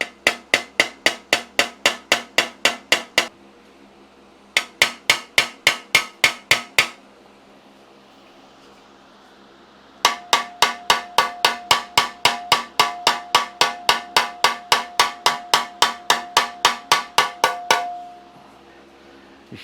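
Sheet metal edges being hammered, loud ringing metallic blows in fast even bursts separated by brief pauses, with a clanging resonant tone carrying through the final longer run.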